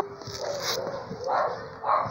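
A puppy whimpers close by in two or three short, high, whining bursts over faint background sound.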